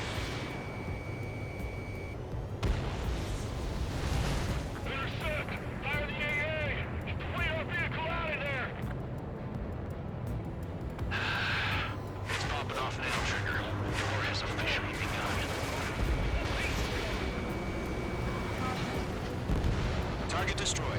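Rumbling blasts and gunfire from the Ace Combat 7 video game as a ground target is destroyed, a dense, continuous din of booms and crackle with voices talking over it.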